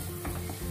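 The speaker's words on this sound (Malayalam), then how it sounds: "എന്നിട്ട് വീണ്ടും നമ്മള് ഇളക്കാം" Onion and fish masala mixture stirred in a hot pan for a fish curry gives a brief, quiet sizzle with a soft scrape of the spoon.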